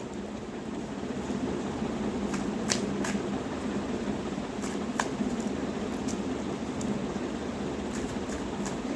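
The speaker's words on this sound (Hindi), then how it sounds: "गाइज मैं कार्ड निकालते जा रही हूँ और मैं बता रही हूँ" Tarot cards are shuffled and drawn, a faint soft papery patter with a few sharper flicks over a quiet steady hiss.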